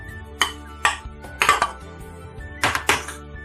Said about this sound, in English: I'm going to drop the bowl down here